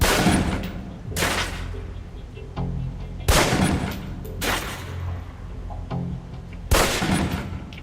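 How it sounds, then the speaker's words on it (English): A pistol fires at a range target in the video game Alpha Protocol, five loud, sharp shots spaced roughly a second or two apart, each with a short booming tail, with no talking. "Equip the pistol, then aim down range and take some shots at the target."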